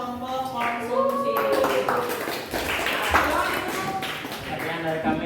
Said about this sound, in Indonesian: mari kita beri tepuk tangan untuk kelompok konsumsi